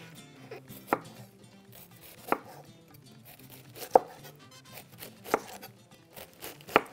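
Knife chopping red cabbage for a Christmas salad, a handful of sharp separate cuts spaced about a second or more apart, close and clear over faint kitchen background.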